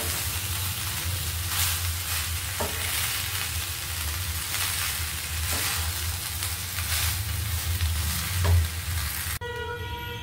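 Drained rice being stirred with vegetables in a pan for veg pulao, a steady frying sizzle with a few scraping stirs of the spoon, close and continuous with no talk.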